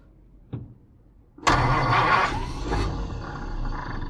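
A 1951 Mercury engine cranks with a brief click, then catches and roars loudly before settling into a rough, steady idle, nearby and without talk.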